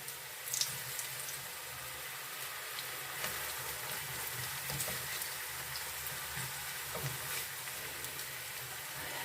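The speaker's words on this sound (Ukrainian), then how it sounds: "викладаємо картоплю на великому огні обсмажуємо з обох сторін" Potatoes sizzle in a hot frying pan over high heat, a steady crackling hiss with small spits and pops, close and moderately quiet with no voices.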